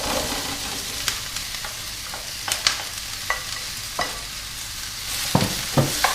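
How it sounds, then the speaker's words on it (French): Onions and zucchini sizzle steadily in a hot pan over fairly high heat, with occasional sharp scrapes and clicks of a utensil stirring them, close up and without talk. "je vais faire tout simplement revenir mes oignons"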